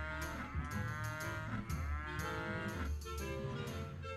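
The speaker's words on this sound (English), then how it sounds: "Oh, that's where I gotta put cows." Cattle moo repeatedly in the video game Rock of Ages 2, several drawn-out lowing calls overlapping at moderate loudness over a busy game soundscape.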